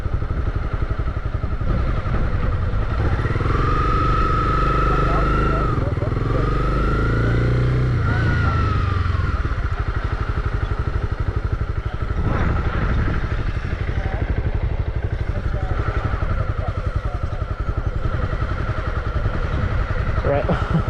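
A Honda CB300R motorcycle engine held at a steady, loud idle-to-low-throttle drone as a beginner rider eases on the gas, with people talking close by over the engine throughout.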